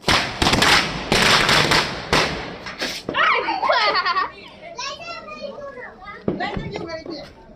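Firecrackers at a Diwali party go off in a burst of sharp cracks and pops at the start, then a few scattered bangs, close and loud, while excited children shout and talk throughout.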